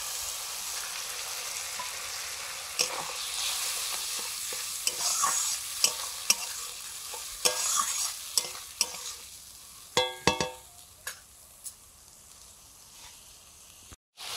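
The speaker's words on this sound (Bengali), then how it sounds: "এবারে বাটা মশলাটা দিয়ে দিচ্ছি।" A paste of ground mustard and poppy seed with green chilli and cumin fries and sizzles in a pan. A spoon scrapes and clatters against the pan in sharp, irregular knocks, growing more frequent toward the end.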